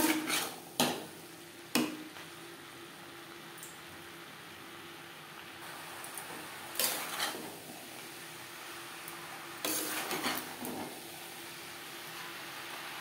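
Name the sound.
stirring banana flower with chickpeas and spices in pan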